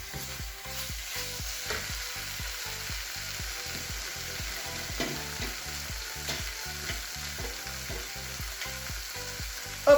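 Broth hitting a hot pan of Japanese curry base with tomato paste, a steady loud sizzle and bubbling frying sound that keeps pulsing evenly throughout, close up with no voices.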